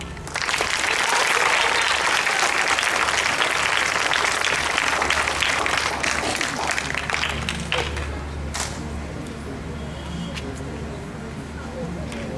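An audience applauds their new king at a performance of Soundjata in Benin, loud dense clapping that eases and thins after several seconds, with a low drone and faint voices beneath.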